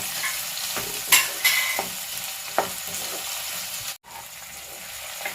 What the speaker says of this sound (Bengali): এটা আর একটু ফ্রাই হবে, সামান্য একটু ব্রাউন ব্রাউন হবে